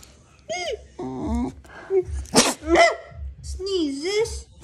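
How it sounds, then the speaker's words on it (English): A Japanese Spitz-Maltese mix dog at home gives one quick, close sneeze amid nearby people chattering and calling out. "He sneezes!"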